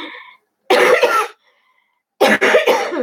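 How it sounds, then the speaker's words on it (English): A person coughs during a live chat with a scratchy throat, two harsh bursts of coughing, the second broken into several quick hacks, loud and close, following a brief voiced sound. "I'm going to start coughing like crazy soon"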